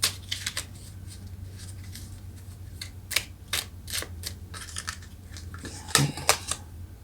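Tarot cards shuffled by hand, a series of crisp riffling and slapping bursts with a louder flurry near the end, close and alone over a low steady hum.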